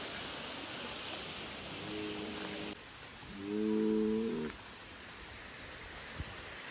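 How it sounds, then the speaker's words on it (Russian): A cow gives two low moos, the second louder and longer, against steady background hiss. "Это корова."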